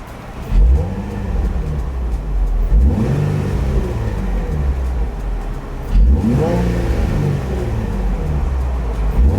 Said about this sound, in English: the motor sounds impeccable